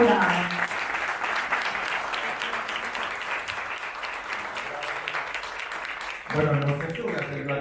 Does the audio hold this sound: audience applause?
yes